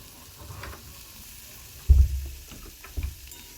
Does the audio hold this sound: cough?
no